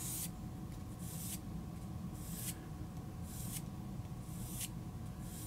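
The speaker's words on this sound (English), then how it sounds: "I'm going to do the same exact thing now with the 1000 grit sandpaper, and this is in an effort to polish it" A carving tool is rubbed against 1000 grit sandpaper in about five soft, rhythmic rasping strokes over a low steady background hum, quiet and close.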